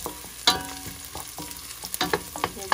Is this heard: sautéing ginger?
yes